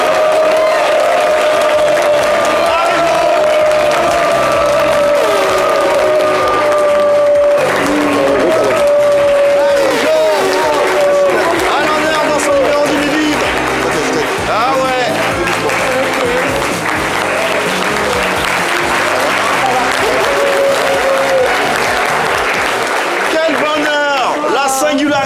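A studio audience applauds and cheers to welcome an Ivorian singer onto a live TV show, sustained clapping with whoops over background music, while voices talk through it.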